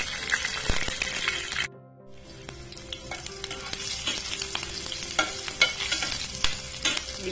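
Mustard seeds, cumin and slit green chillies fry in hot oil, a close, crackling sizzle with a brief quiet gap and stirring scrapes, and no one talking.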